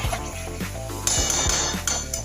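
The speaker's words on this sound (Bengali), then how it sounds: "মাটনটা আমি একটু নেড়ে নিলাম" Mutton being stirred in a metal cooking pot, with a few close, sharp clinks and scrapes of a utensil against the pot over a faint background hum.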